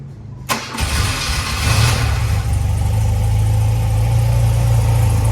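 A 1988 BMW R100 RT motorcycle boxer twin starting from cold with the choke on: a short starter crank catches at once, then the engine settles into a loud, steady, close idle.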